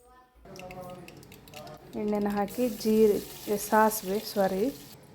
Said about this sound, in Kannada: ಸಾಸಿವೆ, ಕರಿಬೇವು ಮತ್ತು ಬೆಳ್ಳುಳ್ಳಿನ ಒಗ್ಗರಣೆ ಕೊಟ್ಟು